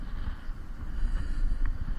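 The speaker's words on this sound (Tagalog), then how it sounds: "ang lakas ng hangin, oh. Tinatangay yung lure natin, oh." Strong wind buffets the microphone while fishing on open water from a boat, a loud, continuous low rumble with gusting surges and no talk.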